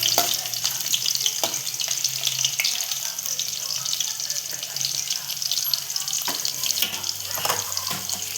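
Crushed garlic frying in a pan for a Marathi chivni fish curry, a steady bright sizzle with occasional clicks and stirring scrapes, close and continuous.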